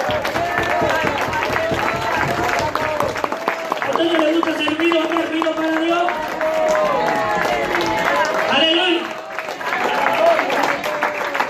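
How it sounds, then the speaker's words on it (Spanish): A church congregation applauds loudly and steadily, with cheering and shouted voices rising over the clapping and what sounds like music or singing underneath throughout. "Yo creo que se merece un aplauso mucho mejor que ese, ¿verdad?"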